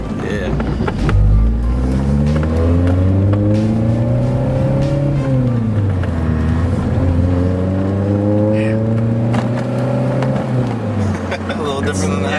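A naturally aspirated Honda S2000, not supercharged, pulls away on a test drive, its engine droning loudly from inside the cabin and rising through the revs in repeated gear pulls, with people talking over it.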